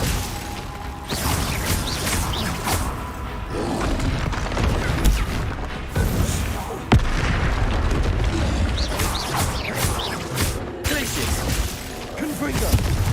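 Confringo explosion spells cast in Hogwarts Legacy, repeated loud booms and shattering crashes in a busy, dense battle mix, with speech mixed in.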